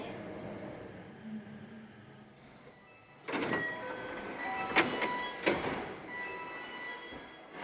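A train pulling into Takatsuki terminal station after a twenty-minute ride, with a quiet rumble that gives way to clanks, brake squeals and door sounds heard from inside the carriage.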